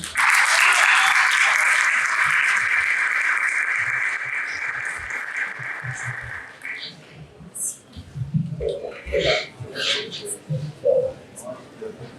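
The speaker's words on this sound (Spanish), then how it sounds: "Por favor, recibamos con un aplauso a Carolina Pulgarín." An audience at a talk on psychedelics and mental health bursts into loud, sustained applause welcoming a speaker, dense clapping lasting several seconds before fading into scattered claps and murmurs.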